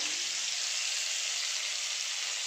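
Onions frying steadily in hot oil for a cauliflower rezala, a dense continuous sizzle close by with no talking.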